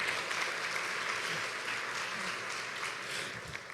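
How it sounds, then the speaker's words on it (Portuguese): A church congregation applauds for Jesus during a Portuguese-language sermon, with steady, dense clapping that holds at an even level throughout and no talk over it. "Dê para Jesus uma forte salva de palmas"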